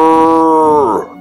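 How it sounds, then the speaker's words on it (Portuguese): A bull lets out one loud, close, drawn-out moo with a strong tonal pitch that sags and roughens into a groan as it fades out at the end. "Ele mugia forte."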